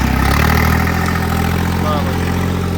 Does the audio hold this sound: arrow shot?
no